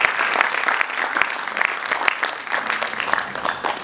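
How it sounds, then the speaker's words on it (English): An audience at a cultural music and Kathak dance showcase in New Delhi applauds a performer with dense, continuous clapping that stays loud and lively for several seconds. "So a big round of applause for Ms."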